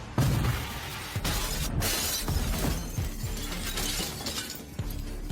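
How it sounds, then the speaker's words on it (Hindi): Windows shatter in a thriller film scene: dense, crashing glass breakage with scattered tinkling shards, loud and sustained throughout. "सभी खिड़कियों के टूटने के साथ"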